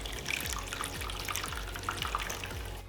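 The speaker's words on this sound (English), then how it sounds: "not as lightly, pour it into the bowl." Melted candle wax is poured into a bowl in a continuous liquid trickle with faint dripping, soft and close, with no voices.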